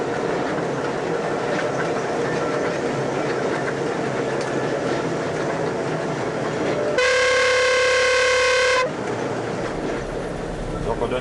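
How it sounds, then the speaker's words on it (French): The Mont Blanc tramway train rumbles past at close range while people talk, and its horn sounds one long, loud, steady blast before the running noise settles back. "on donne un petit coup de klaxon avant le passage du train"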